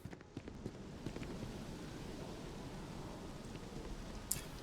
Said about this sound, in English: Rain. Nice weather effect.